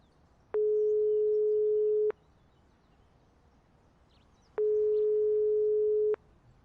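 A phone busy signal in the video game Broken Sword 5: The Serpent's Curse, heard as two long, steady electronic tones of about one and a half seconds each, separated by a pause, clean and alone.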